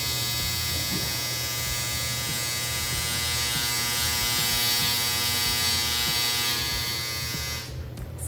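A hair dryer runs steadily nearby, a loud continuous electric whir with a constant pitch that cuts off abruptly near the end.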